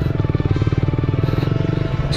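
A Yamaha R15 V3 motorcycle ridden through a village road emits a throbbing, loud engine drone with rapid, regular pulses, close and continuous, no voices over it.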